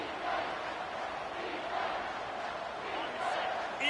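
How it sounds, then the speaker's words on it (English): Loud, dense crowd roar from a packed stadium at a college football game, SMU against Syracuse on third down, holding steady throughout with a few swells and no clear voice standing out. "Third down, and this crowd is bringing down the house."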